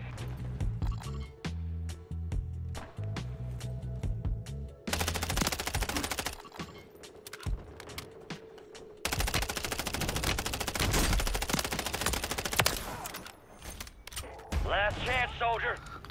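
Bursts of automatic gunfire in Call of Duty, several loud rattling volleys split by quieter gaps, with game voice callouts heard between and under the shooting.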